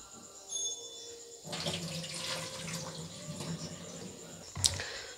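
Soaked lentils being rinsed under a running kitchen tap, a steady broadband rush of water splashing into a pot or bowl that starts abruptly and continues, with a brief sharp clink near the end.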